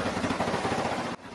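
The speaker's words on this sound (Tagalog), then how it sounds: "May nai-record pang video ang residente ng mga putok ng baril" Rapid gunfire, recorded by a resident during a shooting at a campaign event in Rizal, Cagayan, comes as a fast, even burst of repeated cracks that stops abruptly.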